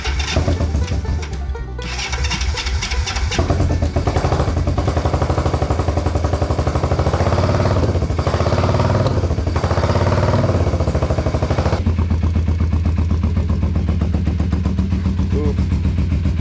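A motorcycle engine freshly reassembled after carburetor work fires up and runs steadily, a loud continuous mid-range rumble with mechanical clatter, running unevenly on one dead cylinder, with voices over it.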